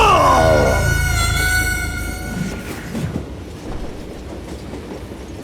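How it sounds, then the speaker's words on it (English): A train rolling along rails in the video game Call of Juarez Gunslinger, loud and close with a sustained horn-like whistle at first, then fading into a steady rumbling clatter without talk. "It was definitely safer on the inside of the train."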